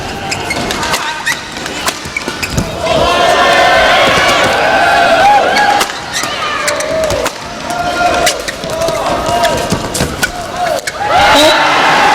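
A badminton crowd at the Axiata Cup 2012 swells into loud cheering and roaring after a rally, with shuttle hits audible early and a commentator talking over the noise.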